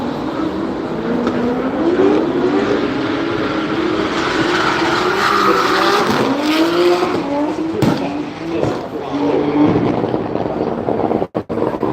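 A drift car with anti-lag at a Silverstone Japfest track event, a loud revving engine with tyre squeal and sharp exhaust pops and bangs, distant crowd noise and a voice beneath.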